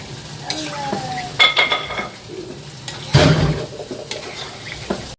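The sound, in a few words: adding cooking water to sautéed vegetable curry in pan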